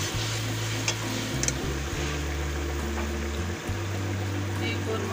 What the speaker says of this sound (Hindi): टमाटर की भुनाई हो रही है